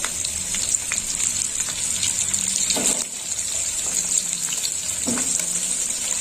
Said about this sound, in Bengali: পটল আর আলু একসঙ্গে আমি ভেজে নিচ্ছি